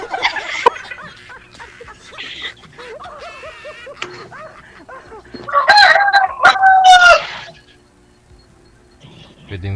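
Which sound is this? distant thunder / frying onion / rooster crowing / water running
rooster crowing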